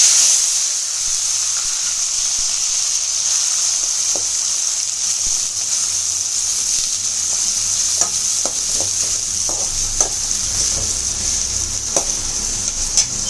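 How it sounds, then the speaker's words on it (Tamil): Mustard seeds, onion, tomato and green chilies fry in oil for an egg curry. A steady bright hiss runs throughout, with scattered crackles and spoon clicks growing busier toward the end. "எண்ணெய் ஊற்றிருக்கேன். வானிலையில் கடுகு போட்டுட்டு வெங்காயம், தக்காளி, பச்சை மிளகாய்"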